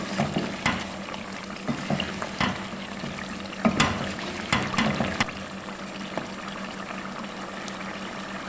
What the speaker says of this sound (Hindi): इसके बाद हम इसमें डाल देते हैं ये सारे मसाले। मसालों के साथ भून लेते हैं 2-3 मिनट।